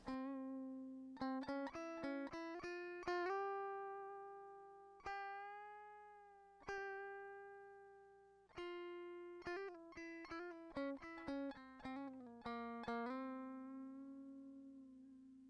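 An electric guitar DI re-amped through a Nano Cortex amp modeler plays a quick melodic line of single picked notes, each attack decaying cleanly, with bursts of fast notes between longer held tones.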